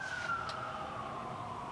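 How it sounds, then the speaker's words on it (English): A siren wails steadily in the distance, a faint sliding tone over low background rumble. "Sirens. I hate sirens."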